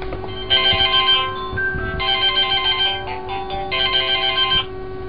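A telephone ringing at home, repeated electronic ring bursts with short gaps, fairly loud, over a faint background hum.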